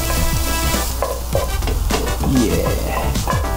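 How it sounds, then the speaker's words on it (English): Garlic and ginger fry in a kitchen pan, a loud, steady sizzle filling the whole stretch, with scraping stir strokes and utensil clinks breaking through close by. "next thing I'm gonna wanna cook is garlic and ginger"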